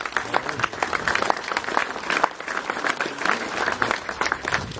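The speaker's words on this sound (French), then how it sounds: "vous pouvez applaudir" An audience applauds the mayor of Tende, Jean-Pierre Vassallo, at the inauguration of Xavier Beck's office. The dense, steady clapping fills the room at an even level for the whole stretch.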